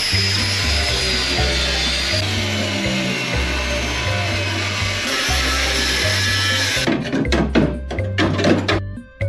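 A power tool cuts the flange off an Audi TT body shell, a loud whining grind that runs steadily for about seven seconds, then breaks into short bursts of rattling and clattering.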